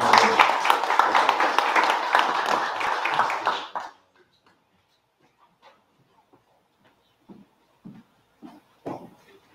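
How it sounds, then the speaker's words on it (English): An audience at a business awards event for chemicals and resins distribution gives a round of dense, steady applause that fades out after about four seconds. A few scattered claps and small knocks follow in near silence. "Let's give them a round of applause."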